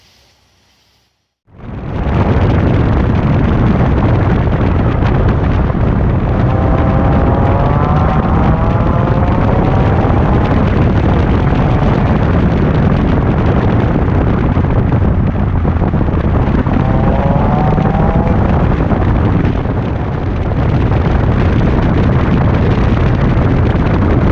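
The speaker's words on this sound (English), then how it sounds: "So here's some video from a test drive." A Toyota MR2 AW11 on a test drive after suspension repair gives a loud, steady roar of engine and road noise that starts abruptly and continues for over twenty seconds, close to the microphone and with no talk.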